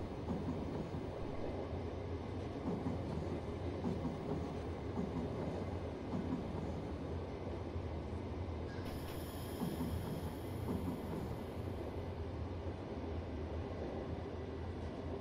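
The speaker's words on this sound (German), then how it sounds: "die schönen Stoßgeräusche hier sind zu hören" Train wheels clicking over rail joints and crossing switches in a train simulator game approaching Mannheim Hauptbahnhof, a steady rolling rumble with rhythmic clatter throughout, plus a brief high squeal midway, with no talking.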